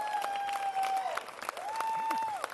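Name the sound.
live podcast audience applauding and cheering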